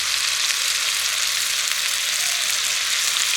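Green mango pickle cooking in a pan as melted jaggery is added, a loud, steady, close hiss of frying and sizzling that holds evenly throughout with no talk.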